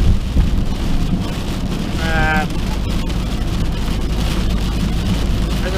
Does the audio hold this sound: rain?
yes